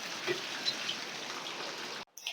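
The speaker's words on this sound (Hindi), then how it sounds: "बारिश अब भी काफी तेज है" Heavy rain falling steadily after a hailstorm at a home, a dense, loud hiss of drops on surfaces that runs continuously for about two seconds before cutting off abruptly.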